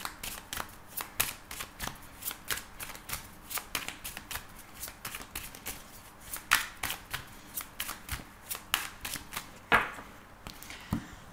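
A deck of tarot cards being shuffled continuously, with rapid regular flicks and riffles of the cards repeating steadily throughout, close and moderately quiet.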